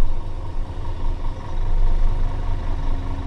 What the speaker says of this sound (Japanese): ちょっとエンジン今かけてみましょう